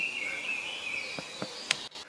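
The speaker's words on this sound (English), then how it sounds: "This is from my excursion this summer when I went into the Amazon jungle." A steady high insect drone fills the air of the Amazon jungle with a few faint clicks and chirps over it, an even outdoor background with no voices.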